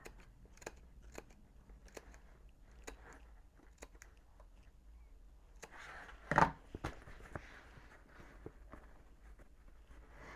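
Scissors snip through lining fabric for a convertible bag with curved gussets: scattered, faint, crisp cuts in a quiet room, with one louder, sharper snip near the middle.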